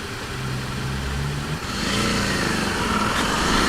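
The engine of a 1982 Honda CB650 motorcycle drones steadily and fairly loud, the pitch shifting about halfway through as it picks up revs.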